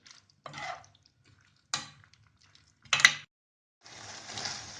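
Tomato chutney cooking on a high flame is stirred in a few separate scraping strokes, with near-silent pauses between them and a longer rustling stir at the end.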